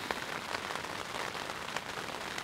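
Steady rain falls at night, a dense even patter with scattered brighter drops, close and constant throughout, with no voices.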